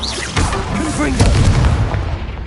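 A Confringo spell explosion in Hogwarts Legacy, a loud booming blast with a rumbling tail, heard alongside spoken voice.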